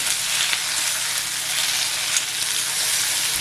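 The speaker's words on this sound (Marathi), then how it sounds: "मिरच्यांचा आवाज बघा कसा येतोय" Whole chillies sizzle and crackle in hot oil while prawn masala is being made, a steady close hiss with faint pops running unbroken and alone.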